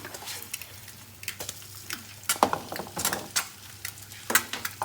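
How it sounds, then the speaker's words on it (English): A corned beef hash patty cooking in a pan alongside a frying egg gives a soft sizzle broken by irregular clicks and scrapes of a utensil against the pan, fairly quiet. "The patty has been cooking nicely,"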